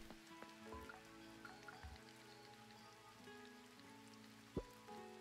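Steady rain falling in the farming video game Coral Island, a soft continuous patter behind light game music, with one brief sharp knock near the end.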